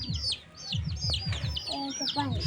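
Chickens cluck repeatedly in short bursts close by, with a bird chirping higher up and faint voices in the background.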